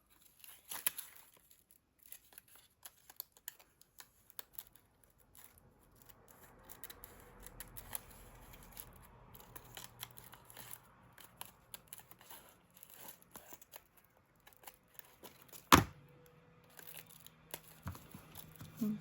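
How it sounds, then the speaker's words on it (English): Scissors snipping through paper and ephemera at a junk journal craft table: quiet, close, irregular cuts and rustles scattered through the stretch, with one sharper snap near the end. "I think I have a scissors issue."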